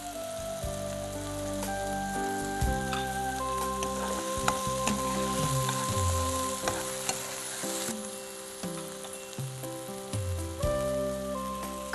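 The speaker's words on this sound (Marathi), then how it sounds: "कांदा आणि टोमॅटो एक साधारण अर्धा मिनिट शिजून द्यायचा आहे" Onion and tomato frying and sizzling in a pan for dhansak, a dense crackling hiss with stirring scrapes and knocks, alongside steady tonal background music and no speech.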